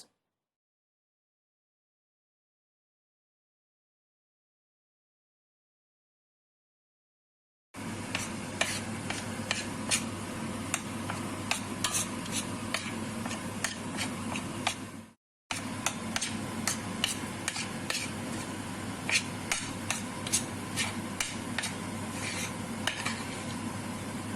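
Halva with walnuts being stirred in a pan while it roasts, a steady scraping and soft sizzling with light utensil ticks, close and continuous after a silent opening and a brief break.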